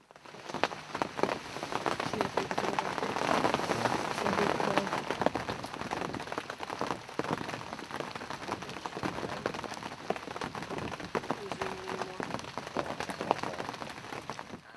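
Heavy rain pours down steadily on a hunting blind during a youth hunt, a dense, close patter with scattered sharper drops throughout.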